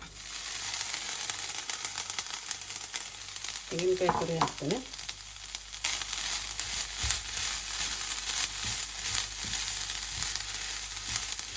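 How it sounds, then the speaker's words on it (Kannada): Freshly grated coconut fries in a pan for mutton sukka, a continuous crackling sizzle with stirring scrapes throughout, plus a brief burst of rising tones partway through. "ಈಗ ನಮಗೆ ತೆಂಗಿನಕಾಯಿ ತುರಿಯನ್ನು ಫ್ರೈ ಮಾಡಬೇಕು ಆಯಿತಾ"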